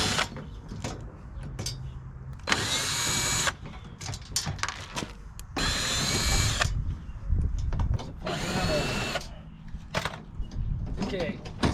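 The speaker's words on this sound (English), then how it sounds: "I'm gonna unscrew those, and then the grill just pulls right out of there." A power drill whirs in several short bursts while unscrewing grille clip screws on a 2005-2009 Ford Mustang, close and loud, with handling clatter between runs.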